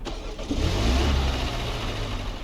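A car in the Roblox game A Long Road starts up and drives off: a short starter burst, then a steady mid-pitched engine drone that rises and holds level, close and fairly loud, with no talking.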